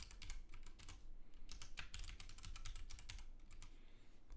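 Rapid clicking of keys on a computer keyboard as a password is typed, a steady run of close, crisp taps with brief pauses, no voices.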